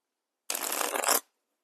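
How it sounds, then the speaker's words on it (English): Tarot cards riffle-shuffled in one crisp, close burst of rapid papery flutter lasting under a second, with silence before and after. "I'm going to shuffle again."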